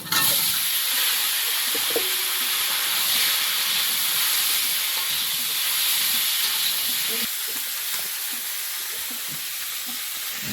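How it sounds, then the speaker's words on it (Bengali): Eggplant and potato sizzle in hot oil, a loud, continuous hiss of frying that carries on steadily with small crackles and utensil taps underneath. "এবারে এই তেলের মধ্যে বেগুন আর আলুটা দিয়ে দেবো"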